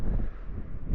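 Wind gusting across an open Lake District hillside, a loud, steady low rumble buffeting the microphone with swelling gusts and no voices.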